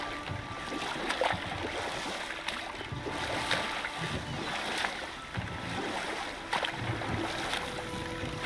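A waterfall in God of War Ragnarök rushes as a broad, steady wash of water noise, moderately loud and continuous, with occasional soft clicks and thuds over it.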